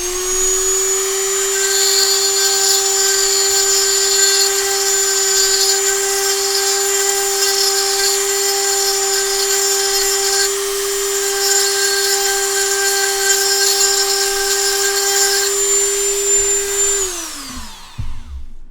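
A Dremel rotary tool cutting metal whines at a steady high pitch, loud and close, running continuously before spinning down with a falling tone near the end.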